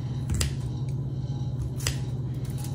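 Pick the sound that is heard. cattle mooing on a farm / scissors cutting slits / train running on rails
scissors cutting slits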